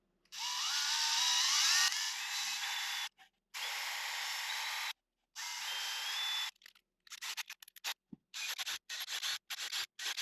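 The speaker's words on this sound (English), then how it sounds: "I always recommend you to use a reamer instead of a normal drill." A reamer cuts out M2 holes in scale 1/14.5 Liebherr R960 SME excavator model parts, a high whirring grind running in several long bursts, then choppier stop-start spurts toward the end.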